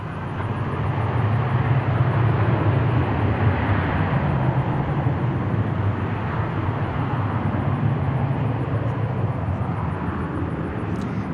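Emirates airliner at Dallas Fort Worth International Airport, a steady broadband jet roar holding at constant loudness throughout, fairly close and continuous with no talk over it.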